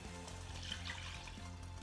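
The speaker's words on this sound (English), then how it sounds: "I'm going to be adding some water" Water pours steadily into a pot of boiling tomato sauce being made for Spanish patatas bravas, a continuous close splashing and running sound with a faint simmer underneath.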